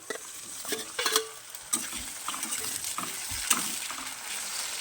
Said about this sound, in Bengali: পেঁয়াজটাকে একটু ভেজে নেব এবার দিয়ে দেবো টমেটো কুচি